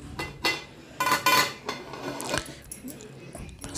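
Cooking pot of fish curry swirled by hand with a cloth instead of a ladle, giving close metallic scrapes and clanks of the vessel on the stove in short uneven bursts.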